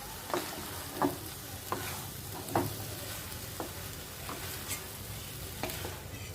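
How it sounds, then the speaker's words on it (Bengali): Food frying in a pan while cooking lobia with chopped green chillies, a steady close sizzle punctuated by repeated spatula scrapes and taps against the pan, with no talking. "একটু ভাজা ভাজা হোক।"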